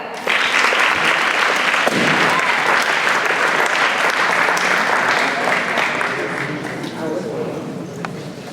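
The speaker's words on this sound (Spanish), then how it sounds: "Recibamos con un cordial aplauso al ingeniero Eric Delgado." Loud, dense applause from an audience at a university presentation welcoming a speaker, a sustained wash of many hands clapping with crowd noise that slowly fades over several seconds.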